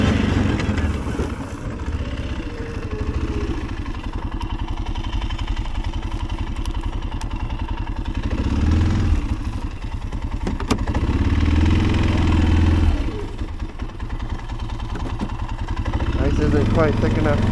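An engine runs steadily while warming up before pulling logs, a continuous low rumble and clatter with slight swells, voices talking over it throughout.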